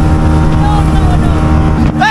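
A speedboat runs on the water near Maheshkhali, a loud close engine drone with water rush throughout and a rising whine near the end.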